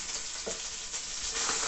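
Mackerel sizzles steadily in a frying pan, a dense close crackle with a few soft scrapes as the fish is turned, no voices over it.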